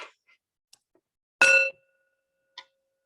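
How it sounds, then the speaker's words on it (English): A single small bell is struck once, giving a bright ringing tone that decays within a fraction of a second, with a couple of faint taps and clicks before and after in an otherwise quiet room. "put all your attention onto the sound of this bell."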